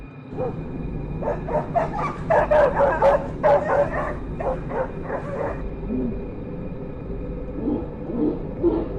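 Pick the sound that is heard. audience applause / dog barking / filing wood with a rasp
dog barking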